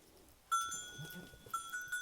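Goats bleating in a snowy village barn, with a few short, faint tonal bleats in quick succession against a quiet background.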